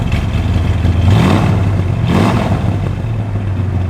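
A 1971 Dodge Demon's engine revs loudly up close, the exhaust rising and falling through two distinct throttle blips over a deep, steady idle rumble, with no voices over it.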